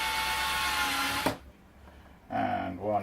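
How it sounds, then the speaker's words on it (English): A power drill whines steadily for over a second while drilling a hole in a workbench, then stops abruptly, followed by a pause and a voice speaking. "we are going to drill a hole"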